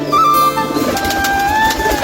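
A pigeon at a home loft gives a short, close coo with tonal, wavering notes, loud and clear over a brief moment.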